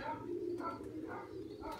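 Pigeons coo softly on a rooftop, a low murmuring call or two heard faintly against steady outdoor background noise.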